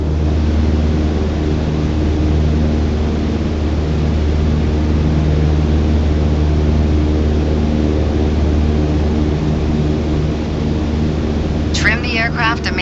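Simulated aircraft engine in a flight simulator cruising over Sedona, Arizona: a steady, loud, continuous drone with a low harmonic hum that holds unchanged throughout, with a brief higher warbling sound breaking in near the end.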